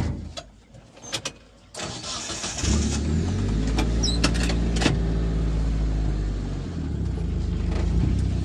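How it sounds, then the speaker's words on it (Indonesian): A car loaded full with harvested palm oil fruit bunches is driven forward on a plantation track, its engine starting with clicks and then rumbling steadily and close throughout. "Kita bawa mobil dulu ke depan."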